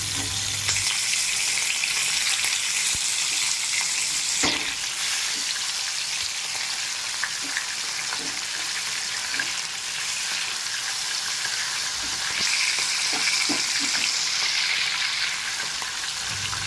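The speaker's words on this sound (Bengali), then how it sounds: "তেল গরম হয়ে গেছে, মাছগুলো এবার দিয়ে দেবো।" Pomfret fish fries in hot mustard oil in a kadai, a loud, close, continuous crackling sizzle with occasional spatters and faint scrapes throughout.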